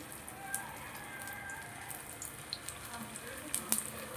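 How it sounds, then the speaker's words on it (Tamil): Potato tikki shallow-fries in oil on a stone pan with a soft, steady crackle and scattered pops, faint and close. "நான் இந்த சைட்லேயே வச்சு பொறிச்சு எடுக்கிறேன்"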